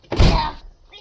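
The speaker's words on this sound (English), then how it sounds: "How to open the door from inside?" An old Mopar barn-find car door is opened from inside with a single heavy, close metallic thunk and latch clunk, followed by a brief rattle as it fades out.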